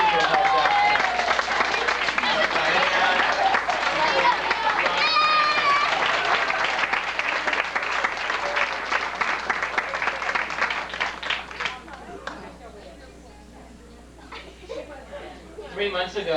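Applause from an audience clapping for parents at an event, a dense sustained roar of clapping with crowd noise that tapers toward the end.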